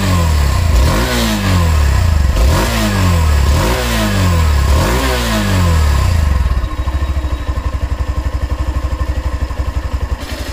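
A 2021 Hero Xtream 160R BS6 motorcycle exhaust revs up four times in quick loud blips close by, then drops back to a steady thumping idle.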